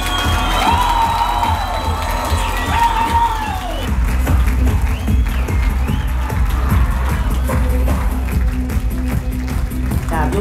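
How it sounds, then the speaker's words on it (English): Wedding guests at a reception cheer and scream loudly as a crowd, a dense continuous roar with whoops and shouts standing out over music. "I need you to clap and scream as loud as you can."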